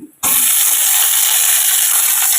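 Onion and garlic hit hot oil already seasoned with bay leaf, dried chilli and black cumin for a taro-leaf dish, bursting into a loud, steady broadband sizzle after a brief quiet moment and holding strong to the end.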